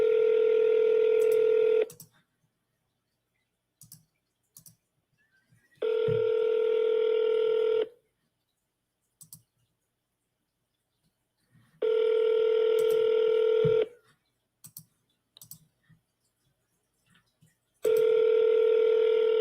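A phone rings on speaker with a steady ringback tone that sounds in two-second bursts every six seconds, four times, separated by near silence with a few faint clicks.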